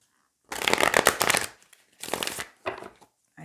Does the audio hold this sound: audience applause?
no